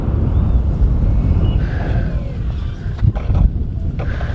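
Gusty wind buffets the microphone at an RC plane airfield, a continuous low roar with a few sharper bumps and a faint distant whine of a model bush plane's motor.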